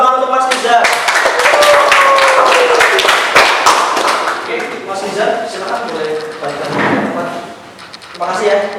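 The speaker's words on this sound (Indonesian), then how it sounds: "beri tepuk tangan untuk Mas Nizar" A class applauds a group's presentation in a classroom, a burst of many hands clapping close and loud that thins out after a few seconds while people talk over it.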